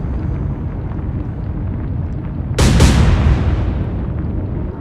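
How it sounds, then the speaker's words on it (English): Over a low rumbling background, a sudden loud blast erupts on a destroyer in a naval video game, followed by a second burst and a long fading roar. "Again, another crippling explosion on our first destroyer."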